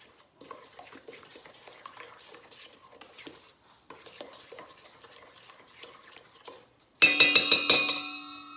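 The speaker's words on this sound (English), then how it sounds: "So I got my cream corn in here with my sugar and my eggs. Mix that up." A utensil stirs creamed corn, sugar and eggs together in a bowl, making soft rhythmic scrapes and light clinks up close. Near the end, a burst of loud, ringing metallic strikes takes over.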